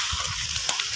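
Water sprayed from a hose onto a burning field gives a brief, hissing, splashing rush of spray, with faint crackling beneath.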